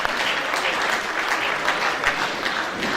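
Applause fills a reunion hall for an alumni couple marking 50 years since the 1989 batch, a dense, steady round of clapping from a large audience, close and sustained throughout.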